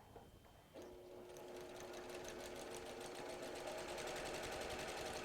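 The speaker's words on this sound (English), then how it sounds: "We're going to sew it from here all the way down to there." A domestic sewing machine stitching a log cabin quilt starts up after a brief pause and runs in a steady, fast, rhythmic whir that slowly grows louder, close and alone.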